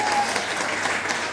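Applause from an audience at a motivational church gathering, a soft, even patter of clapping at moderate distance, lasting briefly.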